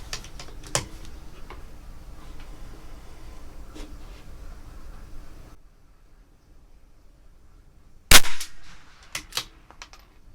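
A CZ 457 LRP target rifle with a new Olympic barrel fires RWS target rounds. One sharp crack comes over steady outdoor background hiss, then quieter stretches, then a louder close shot followed by a few smaller clicks and knocks.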